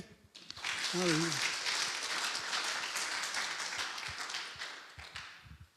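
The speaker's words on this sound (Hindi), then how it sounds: "ताली बजाए जोर से" Congregation clapping loudly at a Hindi church service, a dense sustained burst of applause from many hands that carries on for several seconds, with a voice calling out briefly near the start.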